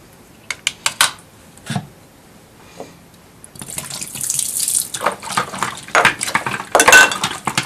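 An alcohol and water mixture is poured onto a Nintendo NES game cartridge during cleaning, a close splashing trickle that runs on for several seconds after some sharp clicks and taps.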